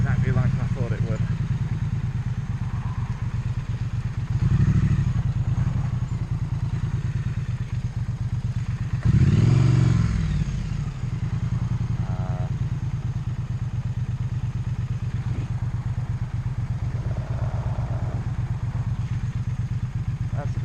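A Triumph Street Twin motorcycle climbs a steep, bumpy byway slope, its engine a steady low chugging drone, with two short louder thumps or bursts and a rider's voice at times.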